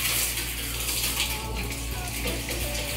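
A shower runs in a steady, close wash of falling water that fills the space with constant hiss, with no talk over it.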